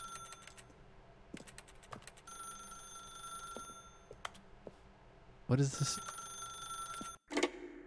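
A telephone rings repeatedly in The Stanley Parable, its bursts coming in a steady pattern of rings among keyboard-like clicks, with a person speaking over part of it.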